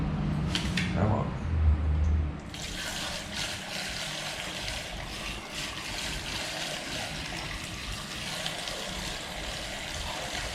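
Fluid trickles and runs into the cooling system of an LS1-powered mini truck being filled to check for leaks, a steady close pour with some knocks and handling at the start.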